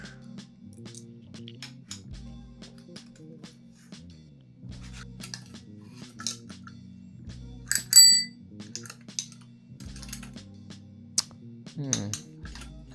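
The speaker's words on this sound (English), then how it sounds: "I'm going to also put a bell, just simple bell." A simple bell fitted to a bicycle being built from scratch rings with a bright metallic ding, one clear strike standing out amid light handling and clinking noises from the workbench.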